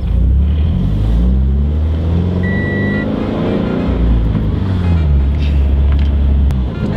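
A Subaru BRZ sports car's deep, throaty ARK GRIP catback exhaust drones steadily while driving, loud and close, with the engine note rising and falling slightly.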